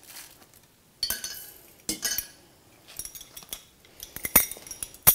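Half a teaspoon of cumin seeds tipped into drinking glasses, giving a few bright clinks and taps of a metal spoon against glass, scattered and close, with quiet gaps between and no talking.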